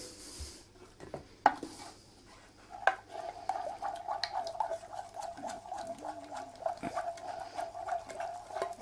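Icing sugar is stirred in a bowl during chocolate cake baking, giving a steady run of close scraping and tapping strokes from about three seconds on, with a few louder clinks and knocks near the start.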